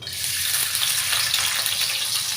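Chopped onion dropped into hot oil in a kadai on a kitchen stove, a steady loud broadband sizzle with no break and no voices.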